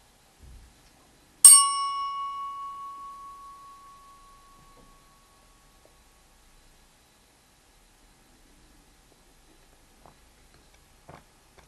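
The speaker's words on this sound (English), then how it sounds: "Now the sound fades after I've hit the gong." A single gong strike rings out sharply, then a pure sustained tone fades slowly into near silence over several seconds, with a few faint small sounds afterward.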